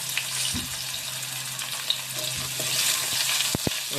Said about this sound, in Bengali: এবার এর মধ্যে দিয়ে দিলাম ডুমু ডুমো করে কাটা আলুটা প্রথমে আলুটা একটু হালকা ভেজে নেব